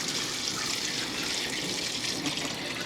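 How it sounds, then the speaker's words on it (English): Water pours steadily from a tap into a pot of potatoes and onion for soup, a constant close splashing rush at low volume with no talking. "we're going to just put enough water in here"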